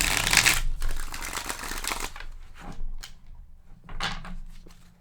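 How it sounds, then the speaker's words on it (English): Tarot cards being shuffled by hand on a wobbly table, a dense crisp riffle at the start followed by a few softer, intermittent shuffles and taps close by, with no talking. "I shuffled these a few times."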